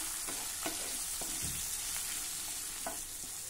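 Sweet corn kernels are sautéed with a ground lentil mixture in a hot pan, a soft continuous sizzle under a handful of quiet scraping stirs, heard close but faint, with no talking.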